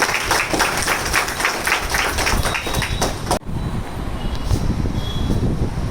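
Sustained applause from an audience at a Maatoshree Gunjai Foundation event distributing government certificates, loud dense clapping that continues steadily, with a brief dip partway through before resuming with scattered claps.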